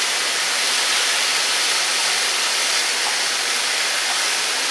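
Ground beef browning in a pan while making beef stuffed peppers: a steady, bright hissing sizzle, loud and close, continuing evenly without pause.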